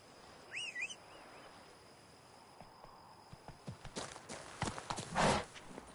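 Horse hooves clip-clopping in the video game The Witcher 3, a quiet ambience with a bird call early on, then hoofbeats building from faint to a louder, close rhythmic clatter near the end.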